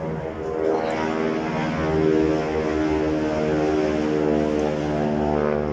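Airplanes pass overhead above cloud cover with a steady, loud, broadband propeller-engine drone. The engine note holds unbroken for several seconds and swells slightly midway, with no voices.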